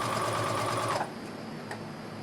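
An electric sewing machine runs a steady buzzing stitch along an apron seam for about a second, then stops, leaving a low background hum and a faint click.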